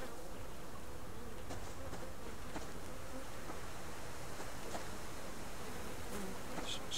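A faint, continuous swarm-like hum of bees drifts through a Subsistence survival-game scene, steady and distant for several seconds, with no talking.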